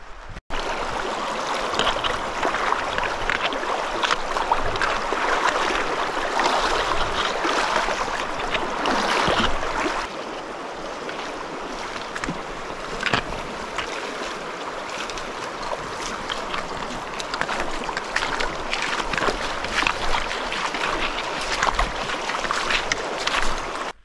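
Steady, loud rush of cold water swirling around feet and legs while wading across an Icelandic river on the Laugavegur Trail, continuous throughout with brief surges, no voices.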